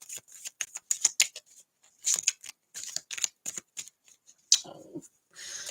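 Cards riffle and slap in quick bursts close by, a rapid papery shuffling repeated several times with brief pauses.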